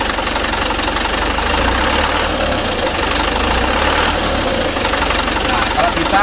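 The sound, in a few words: diesel engine with Bosch pump revved slowly, slightly rattling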